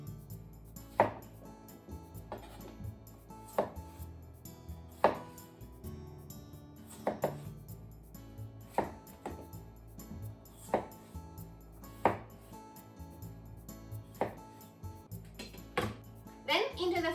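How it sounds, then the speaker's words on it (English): A knife chops potatoes into chunks on a board, each cut a sharp, distinct knock, coming in a slow, irregular rhythm of about a dozen strikes, close and clear, with soft voices in the background. "Cut them into chunks."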